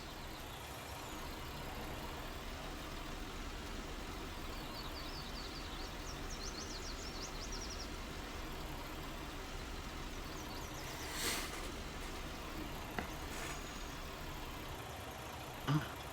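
A truck engine runs at a steady, low idle while the truck backs into a farm barn, a constant mid-level drone with a couple of brief clunks near the end.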